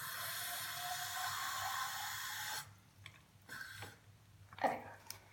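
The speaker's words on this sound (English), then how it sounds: "the first step is to put some water into your bottle" Tap water runs steadily into a baby bottle in a bathroom, a loud, continuous rushing pour that stops abruptly, followed by a few faint handling knocks and clatters.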